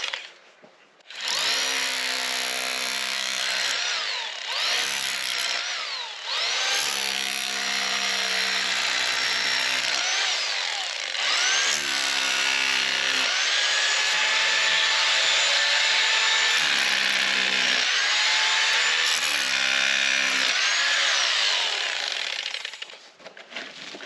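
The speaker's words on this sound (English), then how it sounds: "I'm going to use this Bosch hammer drill that has a chisel attachment, and I'm just going to go ahead and just jackhammer all this hard stuff out of the way" Bosch hammer drill fitted with a chisel attachment breaking up hard ground, a loud close continuous jackhammering rattle that runs in long bursts with brief pauses, no voices.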